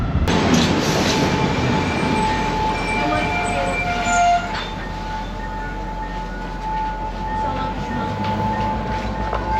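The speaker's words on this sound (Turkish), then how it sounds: "Evet, tren baya eskiymiş." An old passenger train in Sri Lanka rolls along with a constant low rumble, thin metallic squeals and tones ringing over the steady clatter.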